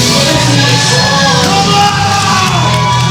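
A wrestling crowd yells and whoops enthusiastically, a loud, continuous roar of many voices with shouted cheers rising over it.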